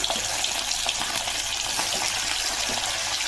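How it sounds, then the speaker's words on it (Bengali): Chicken coated in salt, turmeric and mustard oil fries in hot oil, giving a steady, loud, dense sizzle with a crackling hiss that holds evenly throughout, with no voices. "তাই আজকে তেলে একটু ভেজে নেব।"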